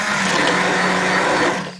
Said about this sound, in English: that quick little blast with a hand mix, it'll make some of the dal almost liquefied and some of it still rustic